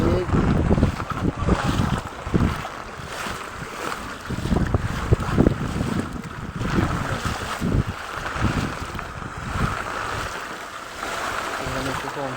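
Strong wind gusts blow over a flooded city street in Dhaka, loud buffeting roars rising and falling against the microphone with rushing water beneath.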